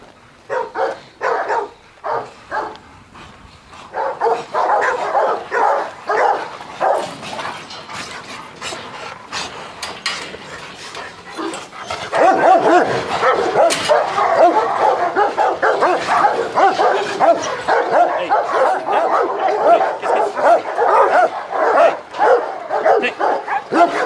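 Several dogs bark, yip and whimper at a Texas kennel, close and loud, the barking growing denser and more continuous partway through, with faint voices now and then.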